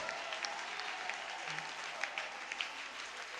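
A church congregation claps together in sustained, moderately distant applause with scattered sharper individual claps standing out.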